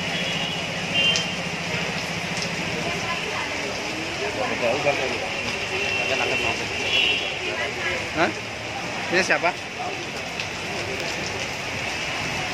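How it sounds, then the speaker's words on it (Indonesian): Heavy rain pours during a storm with strong wind in Tanah Abang, central Jakarta, a steady broadband hiss close by, with people talking over it. "Wow, hujannya benar-benar ya guys."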